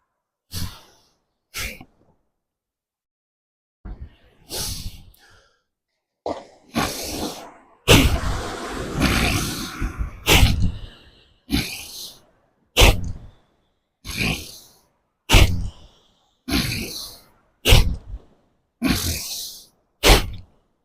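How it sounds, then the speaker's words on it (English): Forceful breaths in and out through the nose during a breathing exercise, a series of sharp sniffs and snorting exhales in a steady rhythm, starting sparse and then coming in regular strong bursts, close and loud with no talk. "We breathe in with force and will come down exhaling with force."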